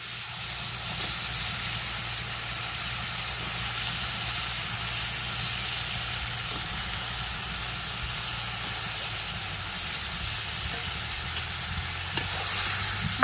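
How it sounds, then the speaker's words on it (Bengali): Cauliflower sizzles and fries while being stirred into spice paste in a home kitchen, making a steady, close hiss with faint scraping throughout and no talking. "মশলার মধ্যে ফুলকপিটা খুব ভালোভাবে কষিয়ে নিই।"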